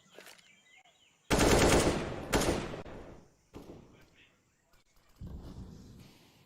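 A few sharp bursts of gunfire punched through a wall in CS:GO during an ESL Pro League match, loud and close, each burst brief with quieter gaps and faint game noise between.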